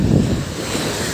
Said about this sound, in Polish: No, także jest sztorm, fale.